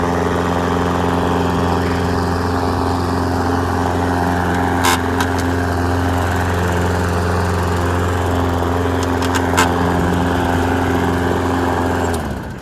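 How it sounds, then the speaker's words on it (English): An old lawn mower's small engine running steadily and loud nearby after starting on the first pull, a rough continuous drone with occasional clicks, cutting out abruptly at the end. "So this old junker started up."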